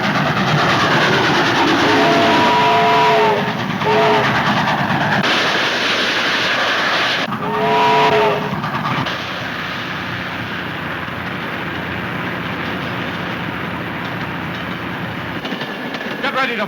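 A train runs on rails in a 1934 film, a loud steady rumble with rattling cars and two bursts of whistle tones, fading to a lower continuous roar.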